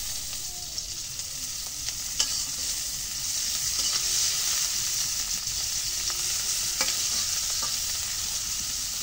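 Frying in oil with stirring while cooking Malabar spinach with chilies and dried fish, a steady close sizzle with occasional scraping clicks from the utensil, fairly faint and without talk.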